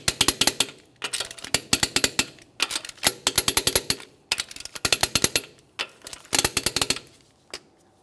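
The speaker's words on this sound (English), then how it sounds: "We're going to be torquing these to 80 foot-pounds in a crisscross manner." An impact or torque tool works the wheel lug nuts on a Mitsubishi Lancer, rattling in rapid close bursts of sharp hammering clicks, roughly seven bursts separated by short pauses.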